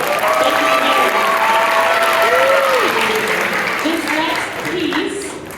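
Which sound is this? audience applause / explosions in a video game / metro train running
audience applause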